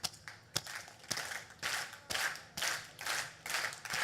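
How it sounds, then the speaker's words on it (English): Slow, evenly spaced handclaps, roughly two per second, quiet and somewhat distant, with faint crowd rustle between the claps. "Let's do a slow clap."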